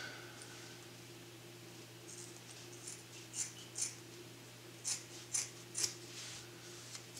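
Scissors cut fabric baffles for a DIY bridge underquilt, making a handful of quiet, crisp snips in short bursts over a low steady background hum.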